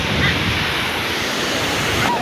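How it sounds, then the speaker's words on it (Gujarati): Sea waves on the shore at Somnath, Gujarat, make a dense, steady roar of surf with wind rumble, heard loud and continuous throughout. "મોજા જો કેવડા કેવડા આવે।"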